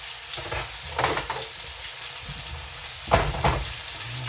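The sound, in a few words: chicken pieces searing in a pan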